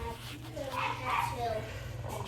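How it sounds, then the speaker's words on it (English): A household dog barks and yips in short bursts from a nearby room, heard under steady talk in a home kitchen while enchilada filling is mixed by hand. "Ignore my dog barking"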